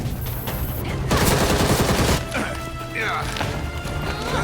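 Rapid gunfire and crashing impacts ring out in the video game Gotham Knights, dense bursts peaking in the middle while voices talk over the fight.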